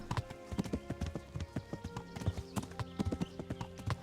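Horse hooves clip-clop at a steady riding pace in the medieval game Kingdom Come: Deliverance, loud, close and rhythmic on the road toward a bridge.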